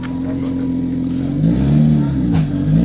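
A Porsche 3.0 engine revs at a car show, a steady mid-pitched idle rising into two throaty blips, close by with faint voices around.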